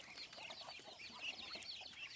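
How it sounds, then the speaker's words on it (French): Chicks and hens on a Thai duck farm among rice paddies give faint, busy peeping and soft clucking, a continuous thin chatter heard from a little distance. "il y a des poussins, des poules aussi"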